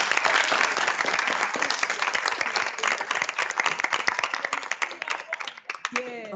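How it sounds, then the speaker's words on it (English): A lecture audience gives a professor a loud, sustained round of applause, dense clapping filling the room for about six seconds before tapering near the end. "May we please give Prof a round of applause."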